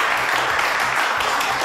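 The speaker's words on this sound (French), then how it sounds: "on applaudit Edith Piaf" A crowd of girls applauds Edith Piaf with steady, dense clapping that fills the short stretch at an even, fairly loud level.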